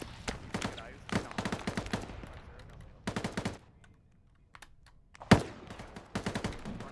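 Rapid automatic gunfire from a military video game comes in several sharp bursts separated by short lulls, with one louder single shot, and a player's voice speaks faintly between volleys.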